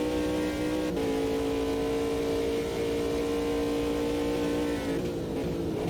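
An LMP2 race car from Thunderflash's mod in the Automobilista 2 racing game rolls along with a steady engine drone, its pitch stepping down briefly near the start and again toward the end; no speech.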